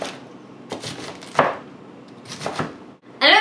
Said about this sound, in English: So, chop up your cauliflower